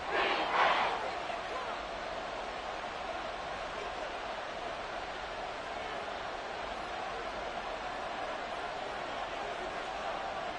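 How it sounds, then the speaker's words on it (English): Crowd cheering in an EA Sports football video game, a steady, dense roar of noise that swells briefly at the start and holds at a constant level throughout. "This crowd turning up the decibel level."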